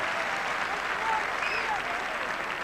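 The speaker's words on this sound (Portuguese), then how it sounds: "Muito aplaudido, Manis." Stadium crowd applauding a Barcelona player being substituted off during a football match against FC Porto, a dense steady wash of clapping with faint whistles and commentary low underneath.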